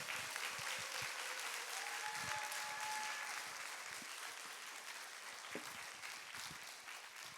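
A church congregation at a Thursday worship service applauds steadily as a preacher is welcomed, a dense, even clapping that continues throughout the clip at moderate distance and fades slightly at the end.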